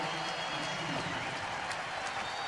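A ballpark crowd of more than 45,000 in Atlanta gives Orioles star Cal Ripken another ovation, heard as a distant, steady roar of cheering and clapping that sits under the broadcast and stays fairly faint throughout.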